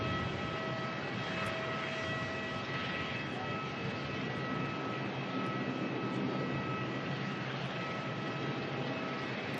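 A Singapore Airlines airliner departs Melbourne airport from an intersection, its engines a steady broadband roar heard from a distance, with a faint whine over it.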